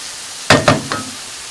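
Herb greens for Ghormeh Sabzi hitting a hot pan over lowered heat, three quick bursts of sharp sizzle in close succession, each fading quickly, with no talk.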